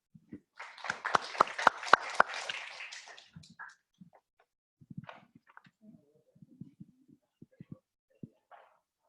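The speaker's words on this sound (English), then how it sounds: "please give me a round of applause in welcoming Sarah." A small seminar audience at a K-State graduate session gives a brief round of applause with distinct individual claps. The clapping fades after a few seconds and leaves sparse footsteps and light shuffling in a quiet room.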